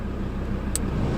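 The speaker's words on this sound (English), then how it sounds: "now I'm just going to put it in drive, low range, as well as winching in" A 4x4 sits in drive in low range while winching itself out on sand, its engine a steady low rumble with faint traffic-like hum and no voices.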